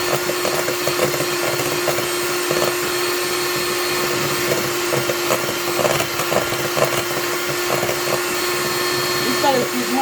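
Electric mixer whipping cream as icing sugar is added, a steady close whirring drone with a constant tonal hum running throughout, with faint background voices beneath.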